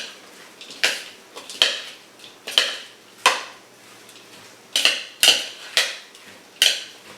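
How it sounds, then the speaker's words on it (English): Brussels sprouts slaw being tossed with a lemony dressing, with a utensil clinking and scraping against a bowl in a series of sharp, close taps at an irregular rhythm, no talking. "I'm gonna make sure we get that dressing mixed all around so it's really coating everything."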